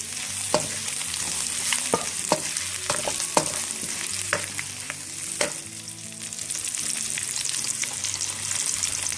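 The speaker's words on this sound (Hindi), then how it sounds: "इसमें हम 1 खाने का चम्मच ये लहसुन अदरक का पेस्ट है, ये डालेंगे। इसे आप मिक्स कर दें।" Garlic ginger paste fries in a karahi with browned onion for dhaba-style chicken karahi, a constant sizzle broken by repeated spoon scrapes and knocks against the pan, close and without speech.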